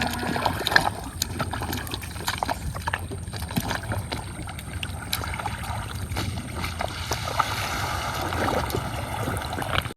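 A small wooden fishing boat is launched into a Sundarbans creek at dusk, with steady splashing and sloshing water close by and a continuous wash of insects and outdoor ambience, no speech.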